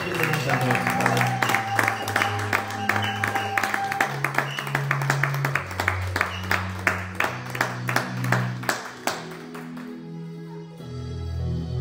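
A congregation at a church ordination service applauds in steady rhythmic clapping over sustained organ-like chords, loud and close throughout before tapering near the end.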